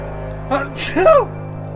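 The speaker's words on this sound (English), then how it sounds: "Oh no, no sneezing! Stop it! Nose, don't do this to me, please." A single sneeze brought on by allergies, a sharp gasping intake followed by a loud burst, close and alone.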